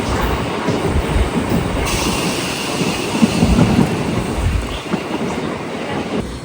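Namo Green Rail hydrogen train running on the line, a steady loud rumble of wheels and carriage noise with faint rhythmic clatter, continuous throughout with no talking.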